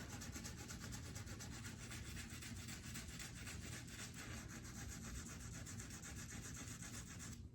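A stiff brush scrubs a hand and arm during a surgical scrub, a close, continuous rhythmic rasping rub at steady volume with no talking.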